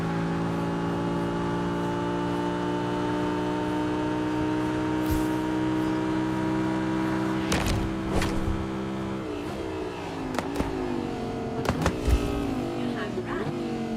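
Audi R8 in the racing game Test Drive Unlimited Solar Crown, a loud steady engine drone punctuated by several sharp exhaust pops and bangs, clustered in the second half as the revs shift.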